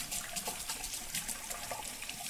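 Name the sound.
tap water running while rinsing face after shaving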